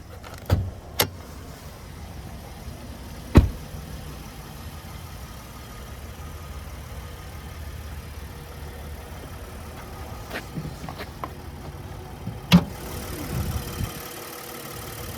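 The naturally aspirated 3.8-liter V6 of a 2023 Nissan Frontier pickup idles steadily in the background with a low, even hum, broken by a few sharp clicks and knocks.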